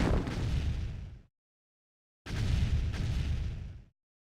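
Two heavy rumbling explosions boom in a Tiberium-themed video game, each lasting over a second with a broad roar that cuts off sharply, separated by about a second of silence.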